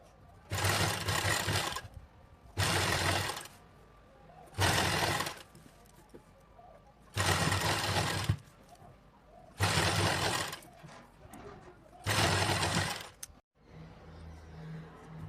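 A sewing machine stitches lace onto fabric in six loud, steady bursts of rapid whirring, each about one to one and a half seconds long, separated by quiet pauses, with a low hum at the end.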